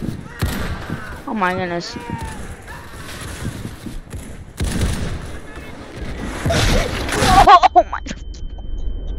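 Artillery fire in the video game Centaura, repeated booming blasts mixed with game effects, while players exclaim loudly over the action.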